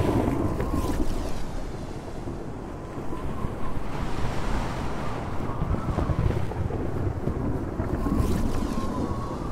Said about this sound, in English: We are out at sea and the wind is ferocious.